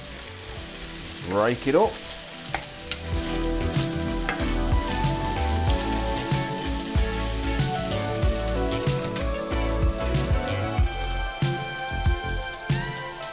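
Streaky bacon sizzling and frying in a hot pan, a continuous loud crackling hiss with spitting pops, accompanied by stirring clatter and a brief spoken remark.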